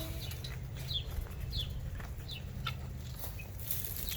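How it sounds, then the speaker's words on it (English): Chickens cluck in short, soft bursts as food is brought out to them, several birds calling in scattered, faint bursts over a steady low background hum. "These chickens see this food coming."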